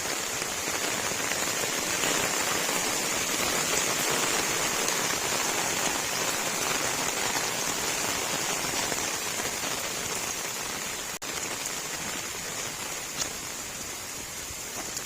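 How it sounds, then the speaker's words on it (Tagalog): Steady, heavy downpour over waterlogged crop fields and fallen banana plants, a continuous close hiss of rain on surfaces that eases only slightly toward the end, with no one speaking. "Ayan na ang ulan."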